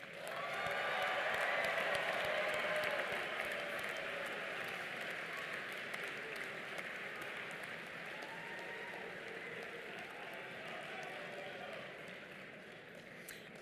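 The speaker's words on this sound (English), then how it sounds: "Please give an extra round of applause for Jacob Strudrava, our last graduate" A graduation ceremony audience gives a broad, sustained round of applause for the last graduate to cross the stage. The clapping sounds distant and diffuse in a large hall and tapers gradually, with faint voices underneath.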